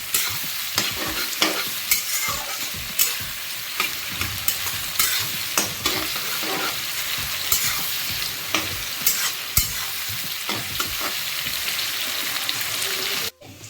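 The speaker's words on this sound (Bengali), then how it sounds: "হালকা একটুখানি নাড়াচাড়া করে নেবো, যতক্ষণ না গোল্ডেন ব্রাউন হয়ে আসছে পেঁয়াজগুলো।" Onions frying in a pan for chicken curry are stirred steadily until golden brown, with a constant dense sizzle broken by frequent scraping strokes of the spoon, close and fairly loud.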